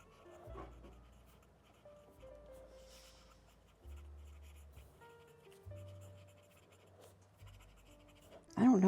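A Sailor fountain pen with a 14K medium nib, inked with De Atramentis Apple Blossom, scratches softly across paper in short strokes, faint and close, over quiet background tones.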